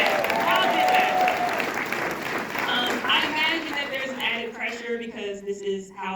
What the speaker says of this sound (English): Okay, round of applause. Keep it coming.